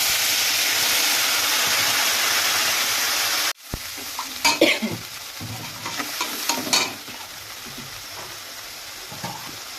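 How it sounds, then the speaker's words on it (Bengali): Whole cardamom, cinnamon, cloves and nutmeg sizzle in hot frying oil left from frying potatoes for a Kashmiri potato dum, a steady loud hiss at first that drops suddenly, then scattered crackles and stirring sounds. "আমার ওই আলু ভাজার তেলেই আমি দিয়ে দিচ্ছি ফোড়নের জন্য এলাচ, দারচিনি, দুটো লবঙ্গ আর জায়ফল"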